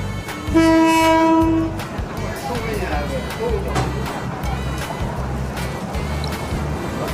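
A train passes beside the railway track at Talat Phlu market in Bangkok, sounding a loud sustained horn blast near the start, followed by a continuous rumble and clatter of cars rolling by close at hand, with voices underneath.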